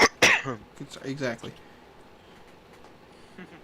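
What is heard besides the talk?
cough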